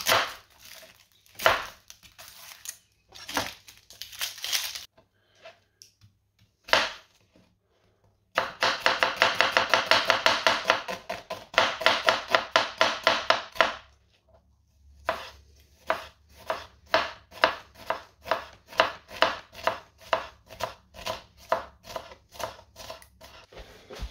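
Knife chopping an onion on a cutting board, with sharp isolated cuts at first, then a dense fast run of rapid taps, a pause, and a long series of evenly spaced strokes, close and crisp.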